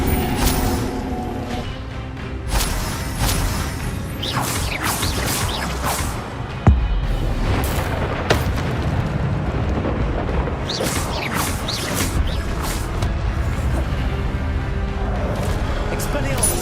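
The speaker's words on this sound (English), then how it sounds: "Expelliarmus! Incendio!" Incendio fire spells cast in Hogwarts Legacy burst out amid dense game combat effects, with repeated whooshing blasts and booms, a sharp crack near the middle, and a voice calling out spells over it.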